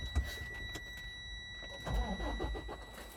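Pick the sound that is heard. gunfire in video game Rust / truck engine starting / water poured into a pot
truck engine starting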